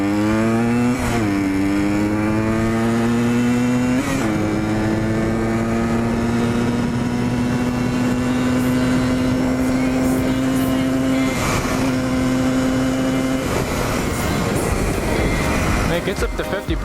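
Yamaha 125 motorcycle pulling hard in first gear, its steady engine note climbing in pitch through the gears, loud and close throughout with a rushing background.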